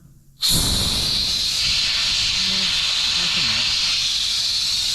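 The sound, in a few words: compressed air blowing debris out of an air line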